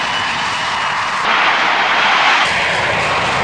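A private propeller plane at a small island airport, its engine drone steady and moderately loud, swelling slightly midway with a broad airy roar and no voices.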